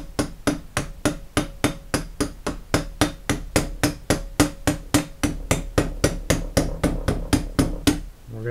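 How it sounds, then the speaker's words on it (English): A body hammer beats steadily on a steel punch while relining the bands of a Model T Ford, about thirty sharp, evenly spaced metallic blows in quick rhythm, close and loud with no talk. "I'm going to take my body hammer."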